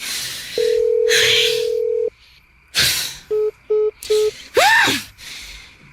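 Cellphone call going unanswered: a long steady ringback tone, then three short beeps and a rising warble, each separated by brief pauses and breathy sounds.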